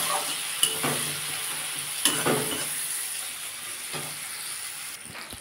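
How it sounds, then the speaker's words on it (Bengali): Gourd and prawns sauté with cumin powder in a pan in Bengali-style cooking, with a constant sizzle and hiss. A utensil stirs and scrapes through the food several times at irregular intervals, close up with no talking. "একটু জিরে গুঁড়ো দিয়ে এটাকে ভালো করে কষিয়ে নেব।"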